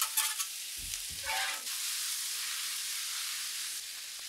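Italian sausage browning in a pan hisses and sizzles steadily while a utensil scrapes and stirs it briefly near the start, then the frying settles into a constant soft hiss with no one speaking.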